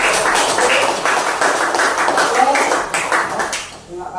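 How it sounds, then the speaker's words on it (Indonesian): Classroom applause for the first student group, a brief scatter of claps mixed with talking voices and room noise, fading as speech continues. "tepuk tangan dulu untuk kelompok satu"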